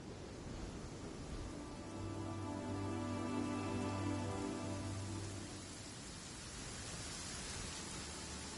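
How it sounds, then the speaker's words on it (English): Rain falls steadily in an open-world video game, a soft, continuous patter heard alone, with a faint tonal hum rising and fading in the middle. "When stuck on a deserted island, rain is a precious source of drinking water"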